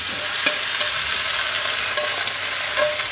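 Konjac with olive oil and oregano is stirred in a hot pan, giving a steady, close sizzle broken by soft scrapes of the utensil.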